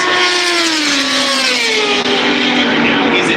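Racing motorcycles, including a Ducati, scream past at the Daytona 200 with a loud high-pitched engine wail that falls steadily in pitch as they pass, under a commentator's voice.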